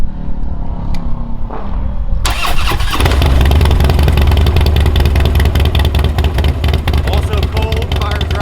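A motorcycle with a 2-into-1 exhaust starts cold: starter cranking, then the engine fires and settles into a loud, steady, rumbling idle close by.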